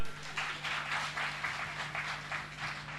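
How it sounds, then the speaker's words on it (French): A conference-hall audience at a debate on constitution and governance claps for itself in a sustained round of applause. The clapping comes in rhythmic, pulsing waves at moderate loudness, with no voices over it. "Est-ce que vous pouvez vous applaudir vous-même?"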